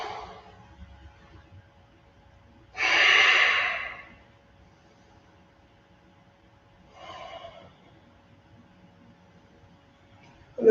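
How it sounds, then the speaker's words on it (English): Deep breathing during an exercise session, with a strong, close breath around the third second and a softer one a few seconds later, separated by quiet pauses. "And then breathe."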